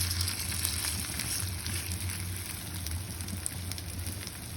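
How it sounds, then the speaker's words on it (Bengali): Chicken pieces frying in medium-hot oil, a dense steady crackle and sizzle, fairly soft and continuous with no talk. "তেলটা গরম হয়ে গিয়েছে, মাঝারি আছে রান্না করব। দিয়ে দিলাম চিকেন।"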